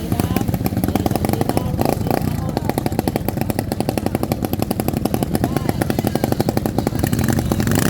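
A racing boat engine at a bancarera festival race in the Philippines runs with a loud, rapid popping rattle, steady and close, with someone talking over it.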